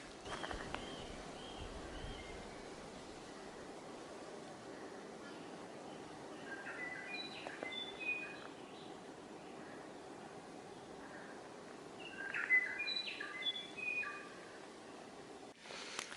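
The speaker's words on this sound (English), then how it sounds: "Let's listen to the bird sounds." Scattered bird chirps and calls ring out faintly over a soft, steady outdoor rush in a forest with old totara trees in the Catlins, New Zealand, growing a little busier toward the end.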